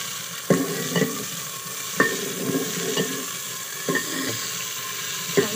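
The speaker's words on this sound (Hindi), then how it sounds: "अब मैं इसमें प्याज डालूंगी, और प्याज को अच्छी तरह ब्राउन करने के बाद हम इसमें डालेंगे और मसाले।" Onions fry in very hot oil with a continuous sizzle, punctuated by several sharp scraping knocks of a utensil stirring the pan at irregular intervals.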